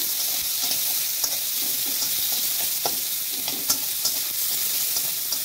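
Fish fat fries in a pan with a constant close sizzle, while scattered light clicks and taps from stirring rise above the hiss.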